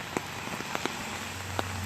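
Rain falls steadily outdoors as a soft, even hiss, with a few scattered drops tapping a little louder now and then.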